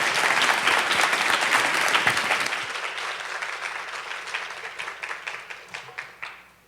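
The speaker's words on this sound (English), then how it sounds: "can we get another round of applause for our amazing panelists?" Applause from a conference audience at a women's political engagement event, thanking the panelists: a dense, sustained round of clapping from a sizeable crowd that gradually thins into separate, distinct claps before stopping.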